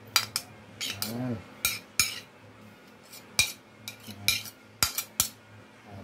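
A metal fork scrapes and clinks against a bowl while goat kilawin is mixed with ginger, chili, onion and calamansi, sharp irregular taps and scrapes close up, with a brief spoken word.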